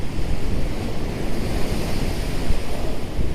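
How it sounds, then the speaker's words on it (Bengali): Ocean waves breaking on the beach at Digha, a loud, continuous surf roar with wind buffeting the microphone. "আর ঢেউগুলো মানে আপনারা দেখবেন তখন বুঝতে পারবেন যে কিভাবে আসছে একটু দেখাও না ঢেউগুলো দেখাও"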